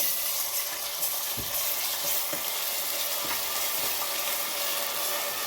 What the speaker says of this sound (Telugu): ఇప్పుడు ఒక 2 స్పూన్స్ అల్లం వెల్లుల్లి పేస్ట్ వేస్తున్నాను నేను. ఇది కూడా బాగా వేయించుకోవాలి.